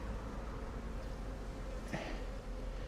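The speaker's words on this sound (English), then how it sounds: "Whew, they are aggressive. These bees are not happy." Honeybees buzz steadily around an open hive under inspection, a continuous close insect drone with a brief louder swell near the middle and no talking.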